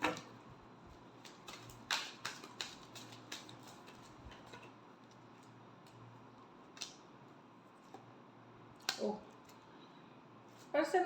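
Tarot cards shuffled close by in a quiet room, heard as a series of soft, quick riffling clicks and flicks in scattered bursts, with brief pauses between them.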